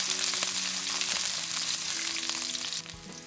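Chopped garlic and slit green chilies are stir-fried in a pan. A bright, continuous sizzle and crackle sits close by, with faint stirring scrapes and no voices.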